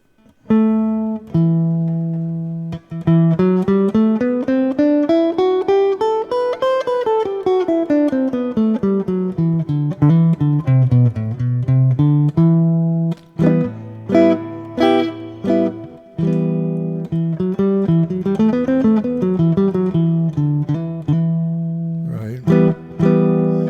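A single guitar plays the E Aeolian scale in fourth position note by note, climbing and descending in steady runs, with brief pauses between phrases; close and clear, no talking.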